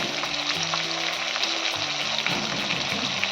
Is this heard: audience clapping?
no